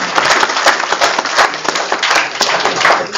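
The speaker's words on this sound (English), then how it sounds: "Let's clap." An audience at a National Mathematics Day celebration claps in a dense, loud, continuous burst of applause with no talk over it.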